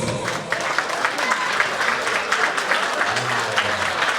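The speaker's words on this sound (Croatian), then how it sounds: "Idemo još jedan veliki aplauz." A crowd applauds loudly and steadily throughout, dense clapping filling the room.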